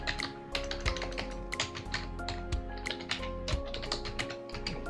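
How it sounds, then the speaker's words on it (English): Fast, steady typing on a computer keyboard entering text into Revit modeling software, a dense run of close, crisp key taps with no voices. "and here we just type in bathroom."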